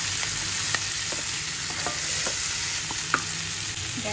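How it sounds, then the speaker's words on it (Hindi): Onion and potatoes being stirred as they fry in a pan, a loud, steady sizzle with scattered scrapes and taps from the spoon, close and continuous, with no voices. "अच्छे से मिक्स कर लेंगे"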